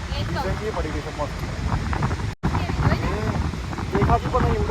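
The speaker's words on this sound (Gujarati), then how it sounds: "મસ્ત પવન છે." Strong wind at Jampore beach buffets the microphone, a constant loud rushing rumble with a brief dropout midway, while people talk underneath.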